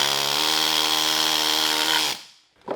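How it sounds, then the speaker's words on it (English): Loud, steady mechanical buzzing from a needle scaler peening a weld on a cracked engine block, running continuously for about two seconds before cutting off, with a brief faint clatter after. "I'm using that needle scaler there to help peen the metal"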